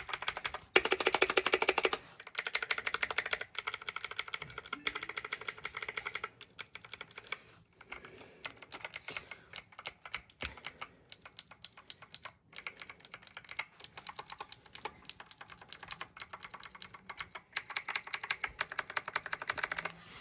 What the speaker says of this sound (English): it's very clicky, and this is just literally just using Black Shark's own keyboard, own key switches